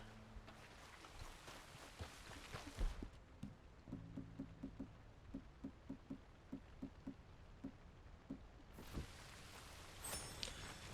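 Steady rain in the Red Dead Redemption 2 game world, a soft hiss that runs the whole time, with short knocks and thuds nearby and brighter bursts of noise near the end.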